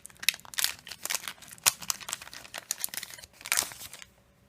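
Cardboard and plastic wrapping being carefully opened on a Japanese Pokémon card box, a run of sharp crinkling and tearing crackles in irregular bursts, close and fairly loud, fading to quiet at the end.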